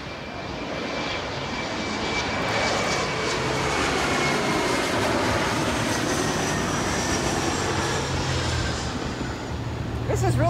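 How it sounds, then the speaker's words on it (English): An Emirates Airbus A380 departing LAX airport fills the air with a loud, steady jet-engine roar that holds for the whole stretch and swells slightly near the end. "Emirates A380 getting ready to depart right here"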